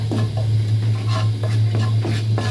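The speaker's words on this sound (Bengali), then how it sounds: "এরপর ওই একই জায়গায় আমরা তেল দেব, এর মধ্যে দেব লাল লঙ্কার গুঁড়ো, হলুদ, নুন, চাট মশলা দিয়ে ভালো করে আমরা তেলের সাথে এই মশলাগুলোকে মাখিয়ে নেব।" Chili powder, turmeric, salt and chaat masala stirred into hot oil in a pan, with a steady low hum under repeated scraping strokes and a light sizzle, about five strokes in quick rhythm.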